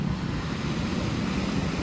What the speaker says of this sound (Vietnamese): Biển hôm nay rất hiền hòa, sóng dịu êm